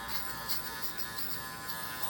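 A cordless Andis Master hair clipper cutting hair at a number 2 guard, a faint steady motor buzz with slight crunching texture, close and continuous without talk.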